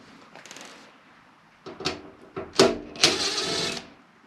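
Quarter-inch screws on an Amana PTAC control board are loosened in a few short, close mechanical whirring bursts after a quiet start.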